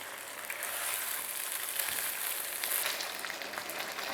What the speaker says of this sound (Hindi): मीडियम आग पे हमने इसको 10 मिनट तक भूनना है।